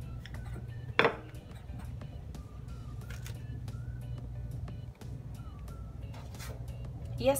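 Corn cookies are set onto a metal baking tray one by one, producing soft scattered clinks and taps, with one sharper metallic knock, over a low kitchen hum.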